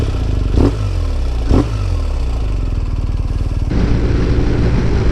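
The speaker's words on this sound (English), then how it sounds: "So let me get on the bike and head out to a fun little road" A BMW R 1250 RS motorcycle sets off, its engine rumbling steadily with two sharp throttle blips early on before settling into a continuous, close, loud drone that shifts tone as it pulls away.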